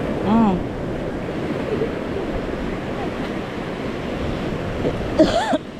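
Large ocean waves crash and wash continuously along a beach in Ras Al-Khaimah in the UAE, a broad, steady surf roar with wind. A short vocal burst sounds near the start and another near the end.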